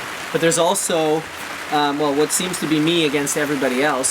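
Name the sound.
rain falling outdoors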